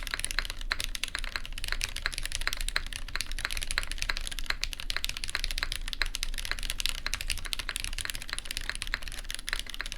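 Fast, continuous typing on a prototype Meletrix ZoomTKL Dyna mechanical keyboard, a dense close-up stream of crisp key clicks and clacks with no pauses and no voices.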